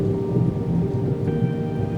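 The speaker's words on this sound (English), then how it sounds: "The rain tapping on the window at a dinner in the middle of nowhere." Rain falls on a window during a storm, a dense, steady wash of drops with a low rumbling undertone, heard alone at moderate loudness.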